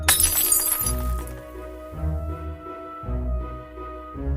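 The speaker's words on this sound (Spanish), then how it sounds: "Cuando grita, los cristales estallan." Glass panes burst apart in a short, bright shattering crash at the very start. The crash fades quickly beneath deep, slow, rhythmic music hits and sustained tones.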